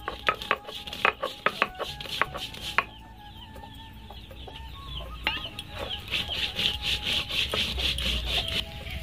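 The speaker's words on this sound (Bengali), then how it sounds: "এগুলো দিয়ে শিলপাটাতে বেটে নেব।" Rhythmic scraping and knocking of a grinding stone working a fennel-seed spice paste on a stone slab, sharp strokes at first, then steadier rubbing with a faint bird chirping.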